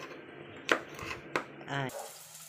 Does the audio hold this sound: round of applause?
no